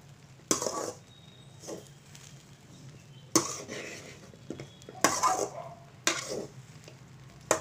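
A spoon clanks and scrapes against a pan while a bread masala mixture is stirred, giving several sharp, irregular strokes with quiet sizzling in between.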